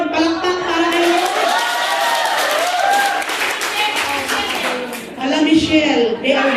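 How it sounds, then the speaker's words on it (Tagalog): A church congregation at a Sunday service claps together, a broad wash of hands under a loud voice singing or talking over it, with a fresh burst of clapping and cheering near the end. "Palakpak para kay Lord."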